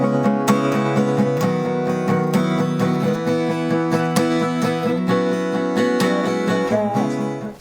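An acoustic guitar strums the chords of a song in a half-time pattern, one accented stroke followed by three softer ones, steady and close with no voice.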